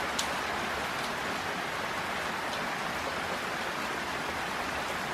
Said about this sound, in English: It's now raining inside the shed.